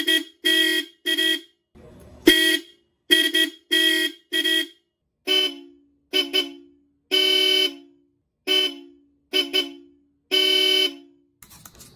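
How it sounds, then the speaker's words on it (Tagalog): Fake and original Bosch Europa car horns sound in turn, a run of about thirteen close, loud honks of varying length with short gaps, all without speech. "Pakinggan ulit natin yung tunog ng fake at ng original."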